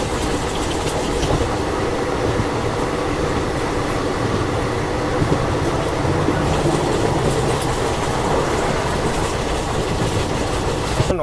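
Himsagar Express running steadily on rails, a continuous loud rumble with rhythmic clickety-clack of wheels over track joints, heard from aboard the moving train with no talking.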